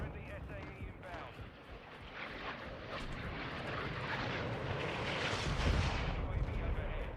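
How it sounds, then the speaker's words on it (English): A UAV drone passes overhead in Modern Warfare 2, a broad droning engine roar that swells louder toward the end amid distant battle rumble, with voice callouts layered over it. "UAV overhead."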